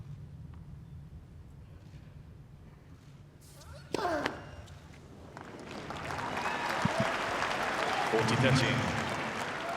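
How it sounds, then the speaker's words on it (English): A scattered round of crowd applause at the 2020 Australian Open fourth-round tennis match follows a double fault. It swells from a quiet court after a sharp thud and builds into a broad, moderate clapping under a commentator's voice. "Spattering of applause on that double fault."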